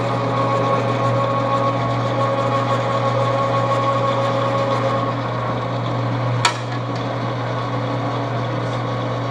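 A lathe's boring bar cuts metal in a steady, loud, continuous machining drone with a tonal whine, broken near the end by one sharp knock before the run carries on.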